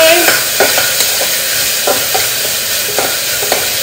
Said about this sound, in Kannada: ಅದ್ರ ಮೇಲೆ ಚೆನ್ನಾಗಿ ಹಿಂಗೆ ಮಾಡಿ ಫ್ರೈ ಮಾಡಬೇಕು